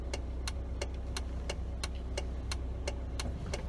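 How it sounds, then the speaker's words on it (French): A car engine idles close by with a steady low hum, while sharp regular ticks repeat about every third of a second, like a turn signal clicking. "La voiture qui arrive"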